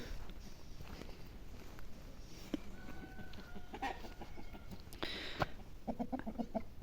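Chickens cluck and murmur intermittently in a quiet Ukrainian village yard, with a few sharper bird calls rising near the end.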